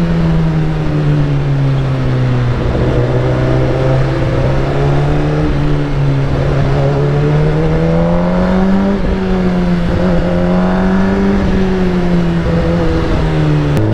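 A Suzuki GSX-R 1000R superbike ridden in city traffic in low gear, its engine a steady, loud drone that rises and falls gently as the throttle changes, with no talk.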